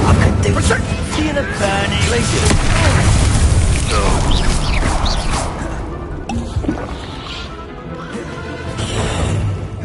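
A fire spell erupting in Hogwarts Legacy, a loud roaring, crackling blast with crashing impacts that fills the scene continuously, fading slightly before swelling again, with voices talking over the chaos.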